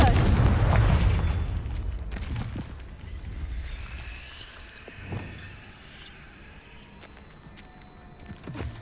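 A Confringo fire spell explodes in the Hogwarts Legacy video game, a loud booming blast at the start that rolls into a fading rumble, followed by scattered smaller impacts and crackles.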